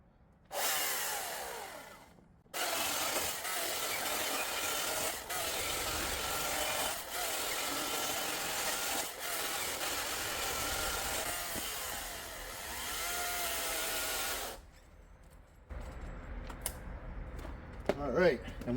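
An Ego CSX5000 cordless chainsaw cuts through wood close by, a steady high whine running for about twelve seconds between brief pauses, then stopping. Faint handling noises follow.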